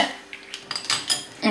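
A spoon stirs lemon juice and caster sugar in a bowl, producing a quick series of bright metallic clinks and scrapes against the bowl, close and fairly loud, with no talking.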